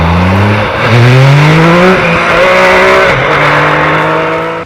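MV Agusta Dragster 800 RR motorcycle engine revving hard, pitch climbing steadily through the gears from mid revs toward 13,000 rpm, loud and close with no speech over it.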